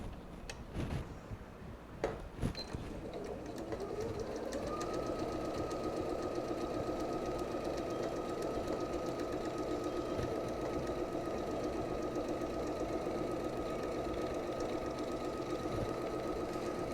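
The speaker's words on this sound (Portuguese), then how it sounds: "Vamos costurar agora a nossa faixa." Home sewing machine stitching a quilt fabric strip using a standard presser foot, starting after a few clicks and running as a steady, continuous mechanical whir with a fine rhythmic tick throughout.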